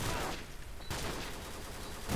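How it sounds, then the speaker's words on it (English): Submachine gun fired in Modern Warfare 2 (2009), fast bursts of shots at moderate level with a short pause in the middle before firing resumes. "So I'm using the secondary for close range because it's a nice little submachine gun."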